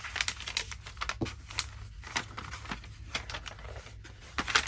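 Glassine paper crinkles and crackles as it is folded by hand into a small decorated bag, a steady close run of crisp rustles with sharper crackles through the whole stretch and no talk.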